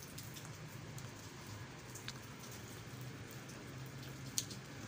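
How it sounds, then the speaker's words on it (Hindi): Moderate rain falling in Karachi during a July monsoon spell, a steady, even hiss of rainfall with scattered droplet ticks and one sharp drip near the end, no voices. "दरमियानी इस वक्त जो है वो बारिश का आगाज़ हुआ है और कभी हल्की कभी तेज़ हो रही है"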